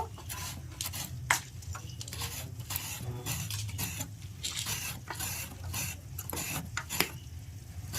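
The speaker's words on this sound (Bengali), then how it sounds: "এবার আমি জিরেটা বেটে নেব" Cumin seeds being ground on a stone slab in a home Bengali kitchen: a soft, continuous rasping scrape with repeated rhythmic strokes and occasional sharper knocks of stone on stone, fairly quiet and close.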